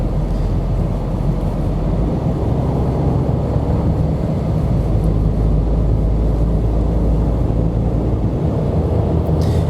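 A 110 hp three-cylinder engine in an Opel Crossland X pulls slowly under acceleration, a steady low drone with road and wind noise heard from inside the cabin, no voices.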